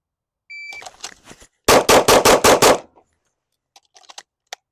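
On a competition shooting run at about seven to eight yards, a timer beeps, then a pistol fires six rapid, loud, evenly spaced shots close by, followed by a few faint clicks.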